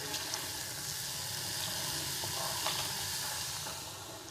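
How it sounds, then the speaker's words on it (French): Frozen noodles dropped into boiling water in a pot for tofu soup, giving a steady bubbling hiss and sizzle that stays loud and even throughout. "Les nouilles gelées dans l'eau bouillante."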